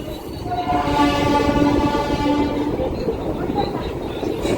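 The Tirumala Express at Guntakal Junction sounds a long, steady horn for a few seconds over the rumble of the station and train, then the tone drops away into general rail noise.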